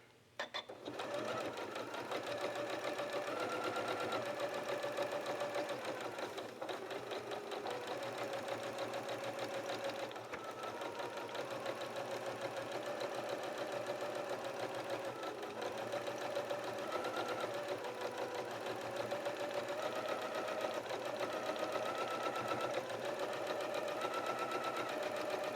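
A sewing machine runs steadily for a long basting stitch a quarter inch from the edge around a curved quilt appliqué, a continuous close mechanical whir with slight speed changes and no talk.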